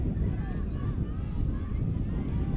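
Strong wind roars and buffets steadily across an outdoor field during a junior world ultimate frisbee championship final, a dense, continuous rumble with faint voices underneath.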